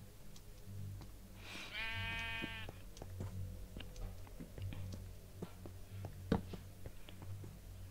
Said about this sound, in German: Noch ein Schaf